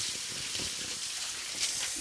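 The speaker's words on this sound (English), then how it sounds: "now I'll just rinse my hands off here" Tap water runs in a steady, close hiss as hands are rinsed at a kitchen sink, with slight splashing variations throughout the short stretch.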